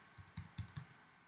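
Several keystrokes on a computer keyboard, typing a web address into a homemade OS X web browser on an Apple Mac; five or six quiet clicks in an uneven rhythm, close and alone.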